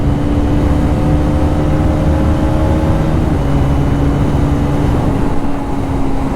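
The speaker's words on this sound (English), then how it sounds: "Even the sound of the engine changes here." A Hero Karizma XMR motorcycle engine roars steadily at high revs, a loud continuous drone with a rising, shifting tone partway through.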